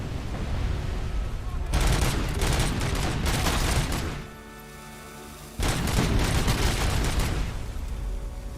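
Gunfire bursts loudly in the video game Robocop: Rogue City, a dense rapid volley that breaks off briefly and then resumes near and heavy. A voice is faintly present beneath the shots.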